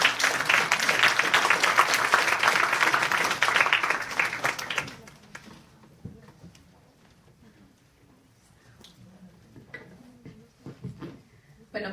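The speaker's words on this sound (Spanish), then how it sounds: "La recibimos con un aplauso." A conference audience breaks into applause for a speaker presenting on regulatory quality, dense clapping for about five seconds that then thins to a few scattered claps and room noise.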